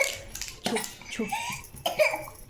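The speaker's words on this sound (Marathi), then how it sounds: "खोकला येतो." A child's short coughs come in a few bursts mixed with brief childish vocal sounds, close and fairly loud.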